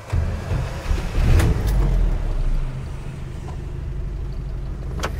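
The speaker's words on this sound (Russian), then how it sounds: "Я сейчас пойду заведу." A UAZ 31512 engine starts and idles, a loud low rumble at first easing into a steadier, quieter running drone, with a few faint clanks nearby and no talk.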